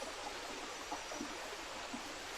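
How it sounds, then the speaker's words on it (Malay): A soft, steady rush of a river flowing through forest on Gunung Ledang, Malaysia, at night, quiet and continuous, with faint gurgles and no voices. "Dengar pula bunyi-bunyi sungai tu kan"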